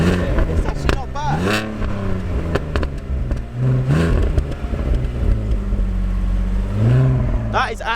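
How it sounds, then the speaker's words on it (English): Car fitted with a backbox delete exhaust, blipped repeatedly so the engine revs rise and fall in throaty bursts with occasional pops, loud and close, while people talk over it. "I was tapping the throttle loads to like make it pop a little bit"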